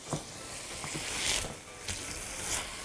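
Beef fillet frying in melting butter in a pan as it is stirred and turned, a faint steady sizzle with soft scraping and stirring clicks scattered through it.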